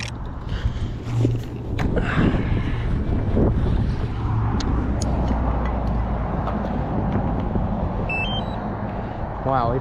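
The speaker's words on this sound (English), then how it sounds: "Wow, it is really windy up here." Strong wind buffets the microphone outdoors on a high spot beside a busy road, a continuous loud rumbling roar with gusty swells and no clear pauses.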